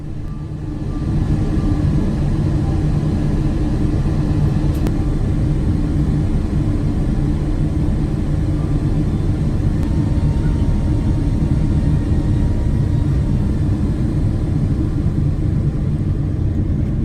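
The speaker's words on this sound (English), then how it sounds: "it was time to commence our approach and landing down into Singapore Changi International Airport" Steady, loud low cabin rumble inside a Singapore Airlines Boeing 777-300 during approach and landing into Singapore Changi, an unbroken engine and airflow drone that holds throughout with no talk.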